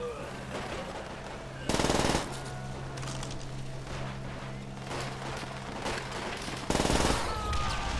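A machine gun fires in Call of Duty: World at War, with two loud sustained bursts standing out over continuous battlefield noise and a steady hum.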